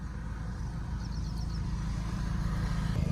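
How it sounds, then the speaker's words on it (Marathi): Road traffic rumbles steadily and fairly close, a continuous low engine drone from passing cars and motorbikes, with no one speaking. "गाड्या वाहतात इकडं"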